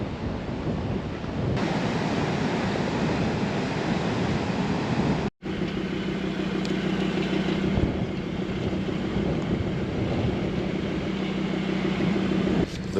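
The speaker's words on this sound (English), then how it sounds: "The wind is something incredible out here at the moment." Strong wind at a beach near a campsite buffets the microphone in a continuous loud roar, with surf washing beneath it and a brief dropout partway through.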